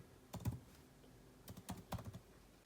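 Keys on a computer keyboard are tapped in a few quick, soft clusters of keystrokes, faint and close, with no talking.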